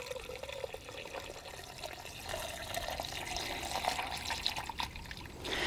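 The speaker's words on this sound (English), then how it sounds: "now I'm going to add water" Water is poured into a flower vase for a hydrangea arrangement, giving a soft continuous trickle and splash that grows slightly fuller toward the end, fairly quiet and with no speech over it.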